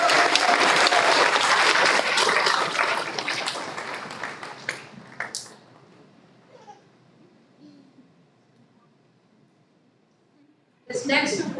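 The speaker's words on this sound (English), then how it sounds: "give them a big round of applause" Audience applause at an elementary school fourth grade promotion ceremony, loud clapping from a crowd that fades out over several seconds, followed by near silence and a sudden return of clapping at the end.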